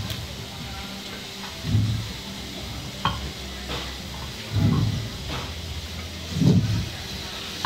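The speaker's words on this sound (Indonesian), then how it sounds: "Kita tumis sampai rata warnanya." Meat being stir-fried with oyster sauce in a pan: a continuous sizzle with several louder, rhythmic scraping and tossing strokes about every one and a half seconds, close by, no voices.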